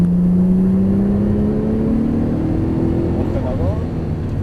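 Porsche GT3 Turbo sports car accelerating through a cone course, with a steady engine drone rising gradually in pitch over a constant background roar.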